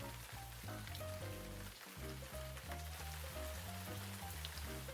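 Shallots sauteing in a pan give a soft, continuous sizzle and crackle, quiet and close. Faint tonal sounds also run through the background.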